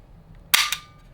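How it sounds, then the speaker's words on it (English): The decocker on an HK USP Expert 9mm pistol drops the hammer with a single sharp metallic snap and a brief second click, close up in a quiet room. "Oh, decocker."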